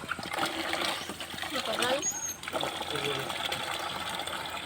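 Water splashing and gushing from a community water pump on a wash day in a Philippine barangay, a steady, fairly loud wet rush with people talking over it throughout.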